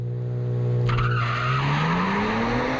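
A 2021 Genesis G70 3.3T launches hard from a standstill, its engine note climbing steadily under full throttle with a brief tire chirp as the car grips and pulls away, loud and close.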